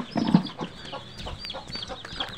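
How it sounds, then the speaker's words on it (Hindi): Hen and chicks clucking at home, with a few close low clucks at the start followed by scattered high chick peeps over a quiet background. "आज हमारे घर में मुर्गी आई है ढेर सारी बच्ची दी है"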